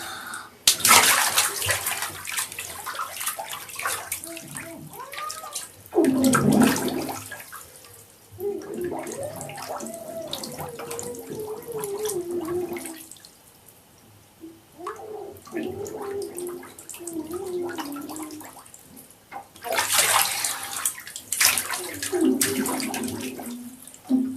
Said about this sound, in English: Singing and blowing bubbles.